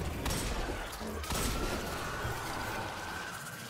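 Dense, loud burst of gunfire from a weapon in the Destiny 2 video game, a steady roar of rapid shots and impacts lasting several seconds, with a sharper crack near the start and another in the middle.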